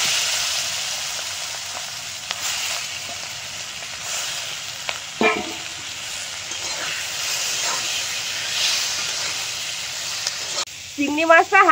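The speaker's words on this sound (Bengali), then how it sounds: "চিংড়ি মাছগুলো ভেজে নেব।" Prawns fry in a pan with a steady, even hiss and sizzle, punctuated by a few brief knocks and a short voice near the end.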